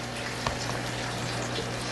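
Water pump in a home aquaponics tank, pushing water up a tube into a grow bed, gives a steady close churning and trickling of agitated water with a constant low mechanical hum throughout.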